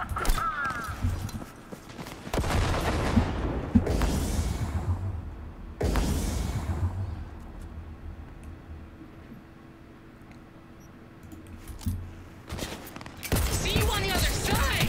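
Grenade blasts and gunfire in the video game Cyberpunk 2077 come as several loud, close bursts separated by quieter stretches, with someone talking at moments between them.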